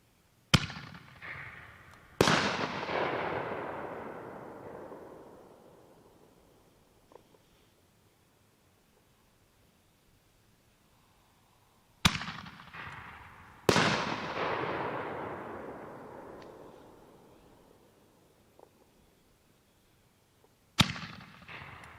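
Guns and Glory 1.5-inch artillery shell fireworks by Legend exploding at a demo night, several loud sharp bursts, some doubled, each followed by a long crackling, fading tail, heard in the open at a distance.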